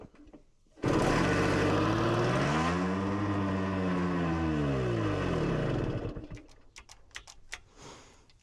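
A 1964 Yamaha engine fires and runs loud and close with a rough droning note, its pitch swinging up and down for about five seconds before cutting out, followed by scattered clatter.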